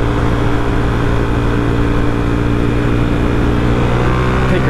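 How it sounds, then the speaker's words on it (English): A Suzuki DRZ400sm single-cylinder motorcycle engine drones loud and close under throttle, a steady sustained rev with dense buzzing harmonics and no breaks. "Give it a little bean, she's a torquey bike, man. She's got that low end torque."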